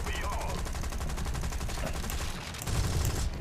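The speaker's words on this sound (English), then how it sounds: "Cannon rounds are back." Rapid cannon and machine gun fire from aircraft in the War Thunder video game, a dense continuous rattle of shots that stays loud throughout with a heavier burst near the end, a voice faintly mixed in.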